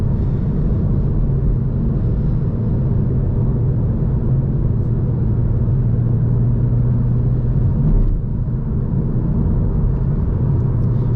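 A manual Toyota MK5 Supra being driven, its steady engine drone and road rumble heard continuously from inside the cabin with no talking.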